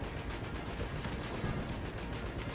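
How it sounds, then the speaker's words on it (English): Constant distant explosions and gunfire rumble through a video game battle, a dense, steady wash of far-off blasts and shots with no pauses. "the distant explosions, the just constant distant explosions is just funny"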